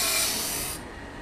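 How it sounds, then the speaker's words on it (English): Woodland Mills Grindlux 4000 grinder sharpening a sawmill bandsaw blade, a close, bright hissing grind that holds steady, then drops off sharply partway through, leaving a softer rub. "the members only will see this grinder working for the next 23 minutes"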